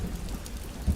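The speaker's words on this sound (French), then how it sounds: "J'entends la pluie écraser sur mon toit." Heavy rain beats steadily on a roof, a dense close patter with a low rumble underneath and no voices.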